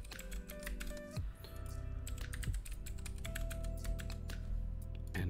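Someone types a name, email address and password on a computer keyboard, producing a steady run of close, crisp key clicks and taps with no talking.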